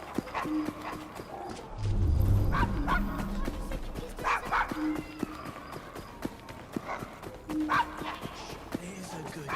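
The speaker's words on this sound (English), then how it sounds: "There's a good doggy." A dog in Assassin's Creed Syndicate barks in a few sharp bursts amid street sounds, with clopping hooves and someone talking over it.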